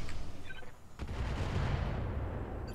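Weapons fire in a video game, a scattered burst of booming gunshots with one sharp crack and a rumbling tail, no voices over it.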